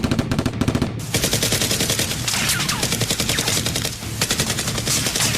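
A staged Nerf gun fight between undercover SEAL players and a criminal group erupts in loud, rapid bursts of automatic gunfire that rattle on almost without pause.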